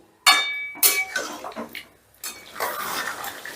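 Yogurt-coated chicken turned in a pan over a high flame, with a few loud metallic clinks and scrapes of a utensil against the pan followed by softer stirring and shuffling.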